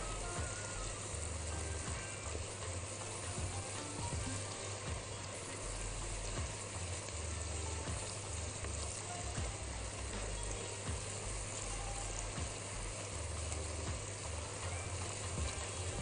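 Rice is sautéed in a pan without browning, before cinnamon and spices go in, giving a steady, even sizzle with faint stirring scrapes throughout, no voices.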